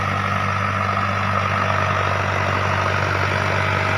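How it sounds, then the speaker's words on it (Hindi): A Mahindra Arjun tractor ploughing a wheat field in an Indian village gives a loud, steady diesel drone with a low, even hum that holds unchanged throughout, close and alone with no talk. "ये अर्जुन महिंद्रा का ट्रैक्टर है और ये चल रहा है, जोत रहा है।"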